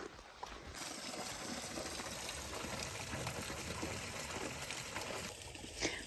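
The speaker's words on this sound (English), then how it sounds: "there is a spring that you can get water from" Spring water running along the Sheltowee Trace trail beside an abandoned house, a steady close splashing gush that fills the whole stretch without pause.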